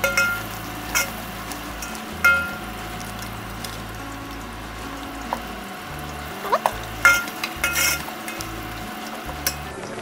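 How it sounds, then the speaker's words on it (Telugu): Ginger garlic paste sizzles steadily in a hot pan while a spoon stirs and scrapes it at intervals, with occasional sharper clinks against the metal and no talking. "అల్లం వెల్లుల్లి కూడా బాగా వేగిపోవాలి, పచ్చివాసన ఉండకూడదు."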